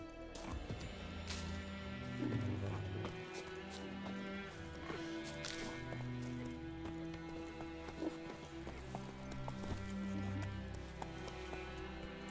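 A horse gallops in the video game The Witcher 3, hooves drumming in a quick, steady rhythm over game music, with a whinny partway through.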